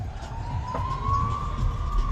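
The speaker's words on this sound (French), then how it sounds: "Vous avez une ambulance, évidemment, qui passe." An ambulance siren passing through a small Spanish transit town. It sounds as a single steady, slowly rising tone at moderate distance over low street rumble, with no voices.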